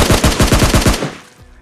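Shotgun fire in the video game PUBG Mobile Lite: about seven loud, close blasts in quick even succession, then a fading echo tail and one fainter shot.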